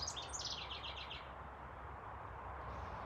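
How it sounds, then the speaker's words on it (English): Birdsong plays for relaxation at the end of a yoga session, a quick run of high chirps and trills early on, fairly soft and distant over a steady hushed background, with no voices. "We're going to relax to some bird song."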